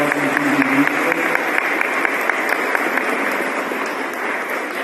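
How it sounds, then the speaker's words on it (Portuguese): A Catholic parish congregation applauds its tithers, a full, even round of many hands clapping that holds steady and fades slightly at the end, with no speech over it. "Vamos bater uma salva de palmas para a nossa dizimistas."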